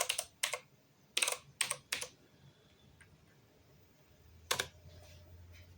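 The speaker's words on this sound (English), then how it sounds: "So we gotta type in the password." Keystrokes on a computer keyboard while a password is entered, arriving as quick clusters of sharp clicks with short pauses between them, then one last crisp tap over a faint low hum.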